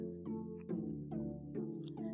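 Tune Micro Twine patch from the Soundiron Tune Micro Kit, a twangy tuned instrument sounding a few warm, wobbling sustained notes with plucked attacks, close and fairly quiet, with no talking.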